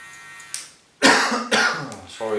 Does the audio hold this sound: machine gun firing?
no